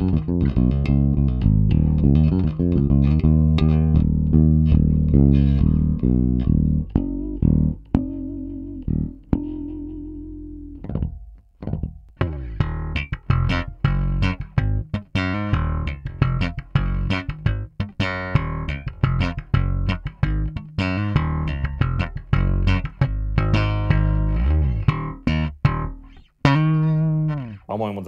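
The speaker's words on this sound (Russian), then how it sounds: "То есть вот этот вот джаз-бас от Фуджигена, в общем-то, звучит так, как и должен звучать джаз-бас от Фуджигена." Fujigen Jazz Bass electric bass played through a compact Warwick Gnome i Pro bass amp, loud and close, with continuous plucked notes and short riffs, a brief pause near the middle, no talking.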